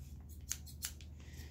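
Cheap Dollar Tree scissors cutting, two sharp close snips followed by a softer third, quiet and alone.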